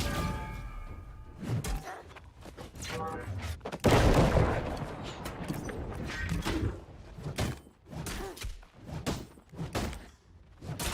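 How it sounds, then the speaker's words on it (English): Gunfire in the online game New World: dense rapid shots and thuds with a loud burst midway, blended with game noise and a little speech. "Guy's still shooting."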